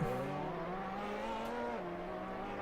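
A pink and purple P&R Ferrari race car in Gran Turismo 2 holds a steady, loud engine drone with a smooth pitch rise and dip, continuous and close.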